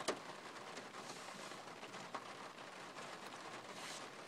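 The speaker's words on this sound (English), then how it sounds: "It's raining again." Steady rain falls in a continuous soft hiss, with scattered drips and light patters on surfaces, fairly faint and with no voices.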